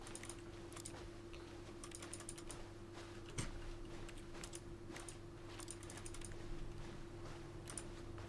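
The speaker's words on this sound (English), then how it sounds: "It's weird, you click and it makes a keyboard sound." Keyboard typing sound effect in The Stanley Parable, heard as quiet, irregular clusters of clicky keystrokes over a low steady hum, with no talking.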